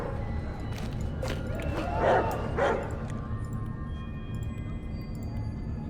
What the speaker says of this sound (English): It'll be a dog that many consider to be immortal by the name of Akela.